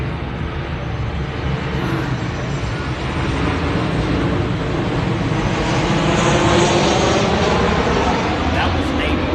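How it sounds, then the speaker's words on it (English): A Navy airplane approaches for a touch-and-go landing, its engine roar a broad steady rumble that slowly swells louder throughout, with a person talking underneath. "I'm gonna let that plane come in real quick."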